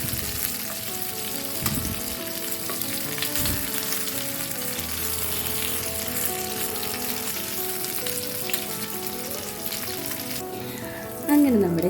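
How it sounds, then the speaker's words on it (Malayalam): Chicken pieces fry in a pan for Arabic haneeth, giving a loud, continuous sizzle with occasional stirring scrapes and a brief louder burst near the end. "നമുക്കൊന്ന് കളർ ചേഞ്ച് ആവുന്നത് വരെ ഒന്ന് ഫ്രൈ ചെയ്തെടുക്കാം."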